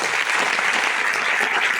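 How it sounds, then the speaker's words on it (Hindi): An audience claps continuously in dense, even applause that stays at full strength for the whole short stretch. "बजाओ एक बार ताली।"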